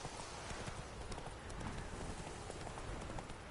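A horse in The Witcher 3 trotting or galloping with a steady, rhythmic clip-clop of hooves on the ground, faint and close, with soft ambient noise underneath.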